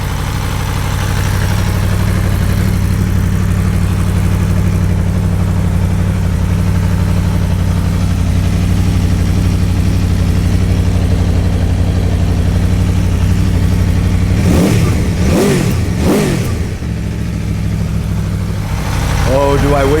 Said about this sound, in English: we'll put a few revs through it and see what that does to the dBs that we measure